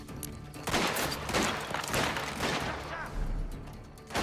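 Rapid gunfire from the video game Mafia: The Old Country, a dense, loud stream of shots and bursts with occasional heavy thuds, continuing through the whole stretch with game sounds layered underneath.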